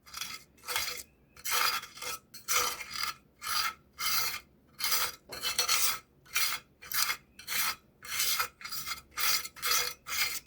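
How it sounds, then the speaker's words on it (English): Natural pigment is ground into watercolor paint with a steady back-and-forth rasping scrape. The strokes come in a regular rhythm of about sixteen, close and fairly quiet, with no talking. "I feel like this one's going to take a while because it's really hard to grind up."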